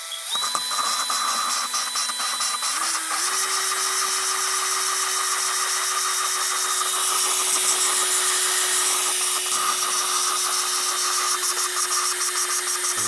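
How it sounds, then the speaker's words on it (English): An engine exhaust valve is lapped with a rotary tool, giving a steady high-pitched whine with a sustained tone that shifts up slightly early on, plus gritty grinding noise, close and continuous. "we're gonna lap it up some more"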